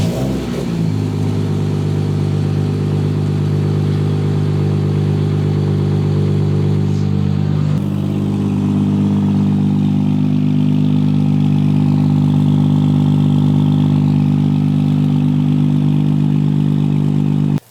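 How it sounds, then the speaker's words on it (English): A 5.9 Cummins diesel engine with the grid heater deleted, cranking and catching on a cold start, then settling into a loud, steady, close rumbling idle with a slight shift midway. "let's give us a good cold start."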